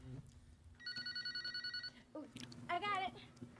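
A phone ringing in a movie, its electronic ring sounding in rapid pulses for about a second, followed by a voice speaking.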